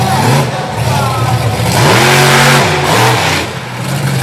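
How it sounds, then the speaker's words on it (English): Monster truck engine on big Firestone paddle tires revs hard at full throttle in an arena event, a loud sustained roar rising and falling in pitch, with crowd noise underneath. "you can hear that horsepower when he stands on it"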